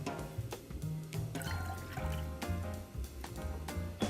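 Water pours and splashes into a container close by, steady and trickling, with light clinks and kitchen clatter.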